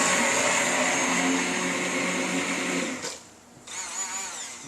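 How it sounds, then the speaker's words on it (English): A blender runs steadily, loud and close, whirring as it purees roasted tomatoes, onions and garlic. It briefly drops off near the end, then whirs again at lower strength. "So what we do is we mix all the tomatoes, the onions, the garlic."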